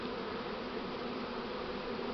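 Buckfast honey bees buzz around their hive after the colony's first swarm, a steady, dense drone of many bees close by, continuous and unbroken with no voices.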